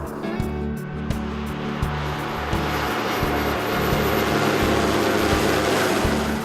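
A floatplane flying a 200-mile route to a remote lake lodge drones steadily with a low propeller engine hum and a broad wash of noise, continuous and fairly loud with no talking.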